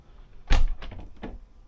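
A glazed door on a yacht's dressing area moves with one firm thump and a short rattle, then a couple of fainter knocks, close and brief.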